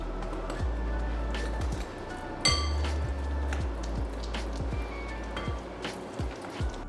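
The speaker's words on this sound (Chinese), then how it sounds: "用打蛋器画 J 字这样搅拌均匀" A whisk stirs 65 grams of sifted low-gluten cake flour into matcha cake-roll batter in J-shaped strokes, making a close, steady run of wet scraping swishes and light clinks against the bowl, with no talking.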